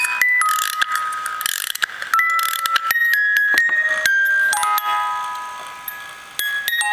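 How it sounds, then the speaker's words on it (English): A wound-up Castle in the Sky Laputa music box runs with loud mechanical ratcheting and clicking from its motor, mixed with tinkling comb notes, heard up close. "once I wind it up, you can hear like the motor or something. It's so noisy."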